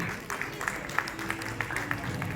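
Audience applause at the FKCCI Export Excellence awards ceremony, a steady patter of clapping from a seated crowd, moderately distant and fairly soft throughout.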